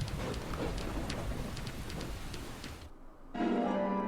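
Steady rain hisses in the video game Deadly Premonition Director's Cut, then cuts off abruptly into near silence before a droning tonal hum takes over.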